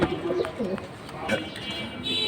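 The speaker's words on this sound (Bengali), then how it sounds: "দুই হাজার বাইশের কবুতর এগুলো" Racer pigeons from 2022 coo repeatedly at a pigeon market, several soft throaty calls rising and falling close by, with faint background voices and bustle.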